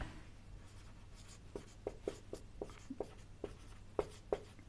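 Chalk or marker writes on a classroom board as a soft, rhythmic series of taps and short strokes, fairly faint and close, with no voices.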